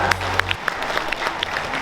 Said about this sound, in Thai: ปรบมือดังให้กับทีมงานของเซวาด้วยที่จัดงานได้ดีมาก